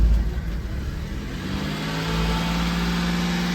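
A Daihatsu HiJet kei truck with a scissor lift and dump bed, its engine catching and settling into a steady close idle that rises slightly toward the end, with no talking.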